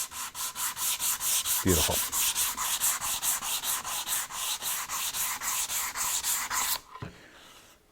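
A sanding block works a chamfer on wood by hand in rapid, even back-and-forth strokes, a loud rhythmic rasp that runs steadily and then stops abruptly, followed by a short pause and a brief knock.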